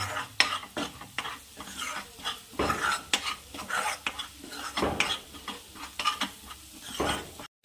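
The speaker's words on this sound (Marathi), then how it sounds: "आता मिक्स करून द्यायचं" A spoon stirs potato cabbage masala gravy in a pan, with repeated scraping and clinking strokes against the metal over a soft sizzle, close and continuous.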